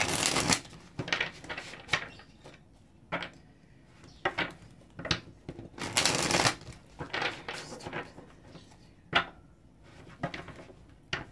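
A deck of tarot cards shuffled by hand in a quiet room, with repeated riffling bursts and soft slaps coming close and loud in an irregular rhythm, with no talking.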